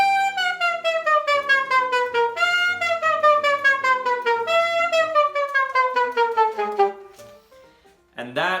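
Saxophone laughing technique: a run of quick, scooped notes slides downward in repeated breathy bursts, loud and close, then stops with a short pause and a final brief note.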